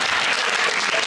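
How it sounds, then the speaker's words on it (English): A large stadium crowd at a weightlifting event cheers and applauds in a steady, dense wash of clapping and roaring. "And the crowd are on their feet."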